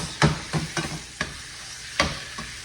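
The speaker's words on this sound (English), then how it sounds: "I'm gonna add some of this zucchini and squash that came from the garden. I'm gonna cook it in the meat grease." Garden zucchini and squash fry in meat grease while a utensil scrapes and stirs the pan in several sharp, close strokes over a low sizzle, with no talking.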